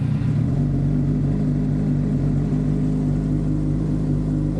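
A Suzuki GSXR 600 motorcycle engine idles steadily after a starter button replacement, a loud, continuous low rumble close by with no talking.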